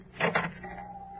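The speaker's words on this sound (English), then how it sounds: "The door opens," A wooden door creaks and clunks open as a radio drama sound effect onto a dark room, a short rattling burst followed by a thin, lingering squeak.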